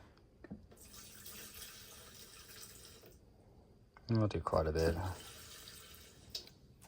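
Hot Shot's Diesel Extreme additive splashes from a bottle into the fuel tank of a Kubota ZD1211 diesel zero-turn mower, a steady trickling pour with a brief burst of talk near the middle.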